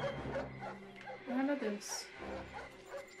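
A pack of fierce dogs in the Up video game barking, yipping and whimpering close together, mixed with a person's excited Portuguese talk over the game sounds.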